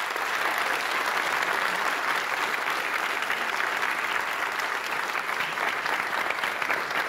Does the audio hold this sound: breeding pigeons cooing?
no